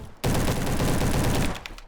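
An SM-03 submachine gun fires in the Roblox game Bad Business, a dense rapid burst of gunfire lasting over a second, loud and close, then cutting off.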